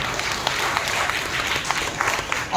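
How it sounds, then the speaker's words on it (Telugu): A church congregation claps together in praise during a Christmas sermon, a dense, steady patter of many hands filling the room for a couple of seconds with no voices over it. "చప్పట్లు కొట్టి ప్రభువును మనం మహిమపరుస్తాం"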